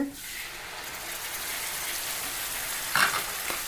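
Ginger garlic paste added to well-browned onions sizzles and fries steadily in hot oil, a close, continuous crackle with a brief louder burst near the end as it is stirred, pickle being made.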